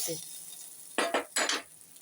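Tempered mustard seeds are poured into capsicum chutney in a few quick sizzling bursts with light clinks of a pan or spoon, near and fairly quiet.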